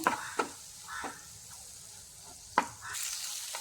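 Chopped tomato is stirred into jackfruit masala frying in a pan: a spoon scrapes in short, irregular bursts over a soft, steady sizzle.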